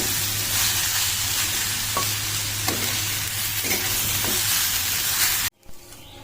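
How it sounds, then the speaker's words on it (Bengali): Pitha filling stirred and frying in a pan over a low gas flame, with a steady close sizzle and scraping stir strokes throughout, ending abruptly into near quiet. "একদম লো ফ্লেমে আমি এটা পাকিয়ে নেবো"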